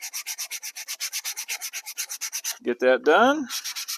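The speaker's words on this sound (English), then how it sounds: "Just using some 150 grit sandpaper." Rhythmic back-and-forth rubbing of 150 grit sandpaper on a model building, about twenty quick close strokes, then a short spoken remark before the sanding resumes.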